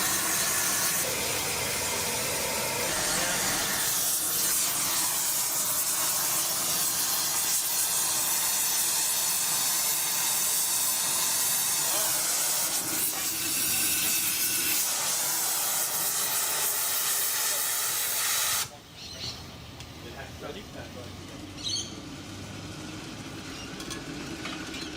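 Thermite reaction during rail welding, a loud continuous roaring hiss like escaping steam that holds steady for most of the stretch, then drops sharply to a quieter rushing with faint clinks near the end.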